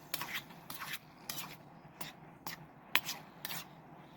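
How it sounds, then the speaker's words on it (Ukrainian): A utensil stirs food in a camping pan outdoors, making about eight short rasping scrapes in an even rhythm; the scrapes are faint and close over quiet background. "Не забуваю перемішувати."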